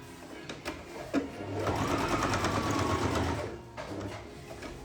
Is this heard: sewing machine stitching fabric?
yes